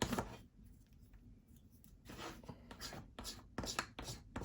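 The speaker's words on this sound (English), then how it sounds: "But scraping off the ink, it's same concept." Ink being scraped off a panel, heard up close as short, rough scratching strokes in irregular bursts with brief pauses between them, fairly quiet overall.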